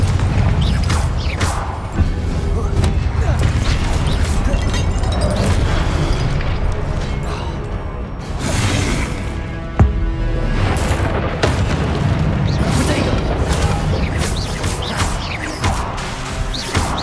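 Confringo fire-spell blasts from Hogwarts Legacy boom over a dense wash of game sound effects, with several heavy impacts and crackling bursts spread across the whole stretch and no pause in the noise.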